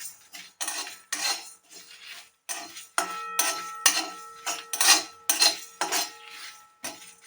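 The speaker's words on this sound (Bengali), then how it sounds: "এইভাবে শুকনো কড়াতে একটু ফ্রাই করে নেব।" A utensil scrapes and clinks against a dry wok as ingredients for a sour-sweet jujube chutney are stirred without oil, in short rhythmic bursts with brief pauses between strokes.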